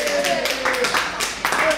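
Brief applause for two young people at a live radiothon launch event, a short burst of clapping from a small crowd under a speaker's voice.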